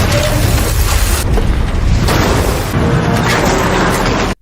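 Loud, dense booming explosions and crashing blasts as a militia convoy breaches base gates and a firefight breaks out, a continuous roaring barrage that cuts off abruptly at the end.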